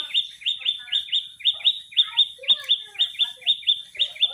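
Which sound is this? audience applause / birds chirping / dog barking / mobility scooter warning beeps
birds chirping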